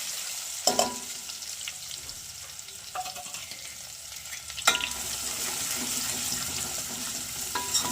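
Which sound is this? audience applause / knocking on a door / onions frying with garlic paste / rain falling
onions frying with garlic paste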